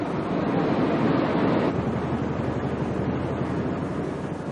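Garangarã waterfall in the forested Serra de Roraima region, heard as a steady, dense roar of falling water that stays loud and unbroken throughout, with no voices.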